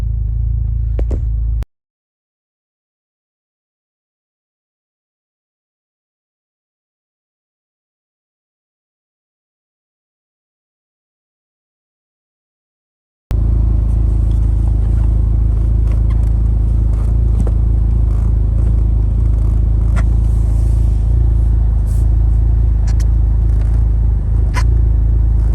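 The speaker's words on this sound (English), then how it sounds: "We're gonna take this thing for a test drive." A Chevy HHR SS on a test drive, heard from inside as a loud, steady low engine and road rumble; the sound cuts out briefly near the start, then returns and runs without break.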